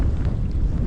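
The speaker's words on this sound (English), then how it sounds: "It is very, very windy all of a sudden." Strong wind buffets the microphone in a steady low roar in a secluded bay, with faint water movement underneath and no voices.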